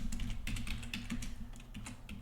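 Quick keystrokes on a computer keyboard while searching an online game database, a close, fairly even patter of clicks without any voice.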